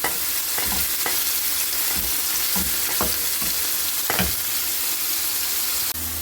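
Steady, loud sizzling of beans frying in a pan, with occasional scraping and knocking as they are stirred.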